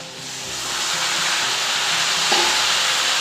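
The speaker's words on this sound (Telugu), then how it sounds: "ఇప్పుడు మనం టమాటాలు వేస్తాము టమాటా ఉల్లిపాయ" Tomatoes and onion frying in a pan for a dried shrimp tomato curry, a loud continuous close sizzle and hiss that swells slightly as the tomatoes go in, with no voices.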